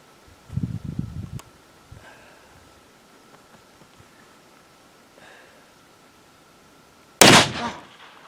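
A single loud rifle shot fired while hunting cracks out sharply near the end, preceded by quiet handling noises and a brief thump of movement.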